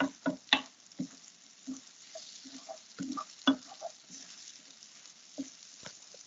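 Vegetables are sautéed with browned pork in a pan, heard as soft intermittent patters and scraping stirs with faint crackling between them, close and fairly quiet.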